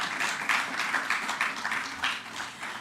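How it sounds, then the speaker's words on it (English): A small audience at a Jamaican post-Cabinet press briefing claps, a moderate, slightly uneven ripple of hand claps lasting a few seconds. "Yes, you can clap."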